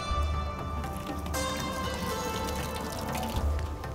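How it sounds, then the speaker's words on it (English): Water runs steadily from a kitchen tap as hands are rinsed under it, a close, continuous wash with soft splashing and a brief clatter at the start. "I'll just rinse my hands once."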